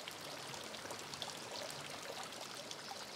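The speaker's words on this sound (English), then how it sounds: "This falaj flows through the neighborhood, in the middle of the old village." Water runs steadily along a falaj irrigation channel through an old Omani village, a faint continuous trickle with no voices.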